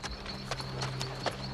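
Horse hooves clip-clopping at an easy pace on a film soundtrack, faint, light repeated beats over a low steady hum.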